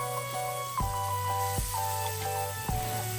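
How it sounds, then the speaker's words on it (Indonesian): Ground spice paste sautéing in a hot pan, a steady soft sizzle and hiss running throughout at low level, with a few faint clanks from utensils and no talking. "ini aku panaskan dulu apinya, kemudian kita tumis bumbu yang sudah kita haluskan tadi"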